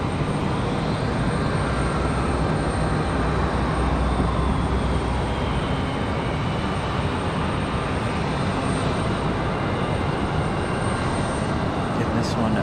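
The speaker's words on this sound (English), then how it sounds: "This is going to be an Embraer Phenom 300E. Coming in at 23 left." An Embraer Phenom 300E business jet arriving on runway 23 left at Raleigh-Durham International gives a steady, broad engine roar, constant and moderately loud throughout with no breaks.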